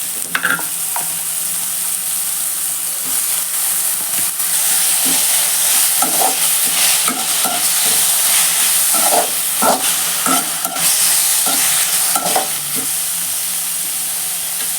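Broccoli stir-frying with softened onions in a pan for an egg broccoli fry, a strong continuous sizzle and hiss up close, punctuated by irregular clacks and scrapes of a spoon stirring, with no voices.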